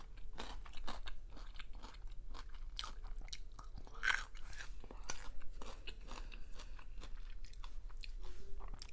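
Crunchy bites and chewing of pickled radish during a Korean mukbang with spicy tteokbokki and fried wings, close and steady with repeated crisp crunches across the whole stretch and no talk.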